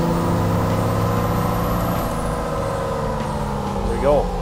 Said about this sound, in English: Torque converter locks up. Start loading the turbo a little bit.